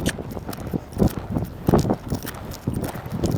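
Horse hooves clip-clopping at a riding club as a rider is being taught, a steady rhythmic series of close, solid thuds on the ground, moderately loud with no talk over it.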